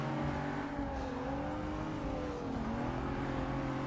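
BMW M4 engine in a Forza racing game, a steady droning rev with the pitch wavering up and down as the car is driven, loud and continuous with no talk.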